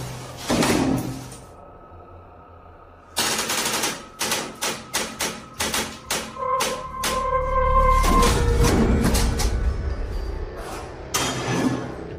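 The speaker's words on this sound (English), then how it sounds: "It shoves something in the empty hole where a doorknob should be, and soon it bursts the door open." A door in an abandoned building is forced and burst open, with a series of sharp knocks and rattling thumps followed by a heavy scraping surge and clatter, loud and close.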